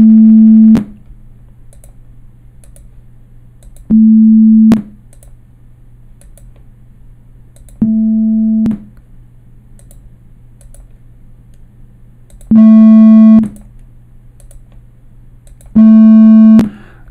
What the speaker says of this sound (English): So we get this kind of recorder-like tone as the distortion component